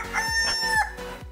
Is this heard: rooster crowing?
yes